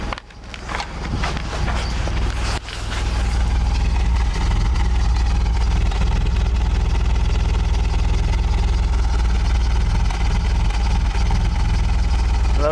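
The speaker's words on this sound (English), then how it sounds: "but that is not the definition of a smooth running engine." A warm engine idles roughly and slightly unevenly, a loud, close, continuous low rumble that holds steady throughout after a brief rise at the start.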